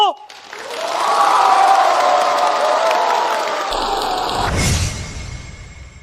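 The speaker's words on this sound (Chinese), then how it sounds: "让我们热烈掌声祝贺杨总，祝贺庄总" A meeting crowd breaks into loud applause and cheering, building quickly to a dense roar of clapping and whoops that holds, then thins as the clip ends.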